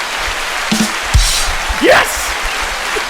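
A looping round of applause sound effect: steady, dense clapping fills the whole stretch, with a short excited shout and a few thumps over it.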